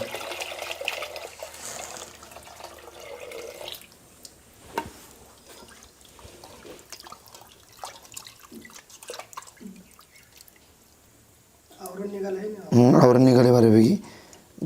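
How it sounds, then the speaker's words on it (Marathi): Cold water pours and splashes into a container while washing fresh cashews, then drips and small handling sounds follow while someone talks nearby. "आता आपण थंड पाणी घेऊन ते व्यवस्थित धुवून घेऊ"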